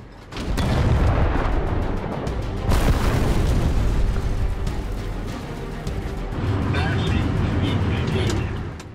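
A Leopard tank gun fires an armor-piercing shot during a battle, a heavy boom near 3 seconds amid sustained loud rumbling, engine noise and battlefield din, with people talking throughout.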